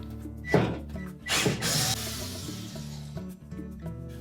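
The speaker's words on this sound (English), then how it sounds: "we're going to remove the two mounting screws that secure that element to the back wall of the oven" A tool working the quarter-inch hex head mounting screws that hold a 240V bake element to the back wall of a Whirlpool range oven, with a couple of short whirring bursts and scraping over a low background hum.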